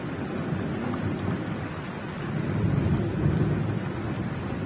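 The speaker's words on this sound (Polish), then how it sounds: "Coraz bliżej jest, bo no, coraz częściej słychać grzmoty." Night thunderstorm over a garden in the Łódź region: steady heavy rain pours throughout while low thunder rumbles swell and roll, growing stronger toward the end, with no voices.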